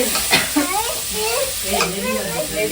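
Chopped onions sauté in a pan for a goat head curry, giving a steady bright sizzle with scraping stirs throughout, while a voice talks over the cooking.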